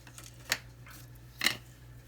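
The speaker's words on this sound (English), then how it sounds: "I'm just going to take my snips here. I'm just going to cut a piece" Snips cut through textured weave ribbon in two crisp, close snaps about a second apart, over a low steady hum.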